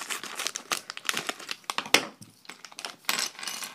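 Plastic Lego minifigure blind bag being cut open, giving close, crinkly rustling and tearing with a sharp snip partway through.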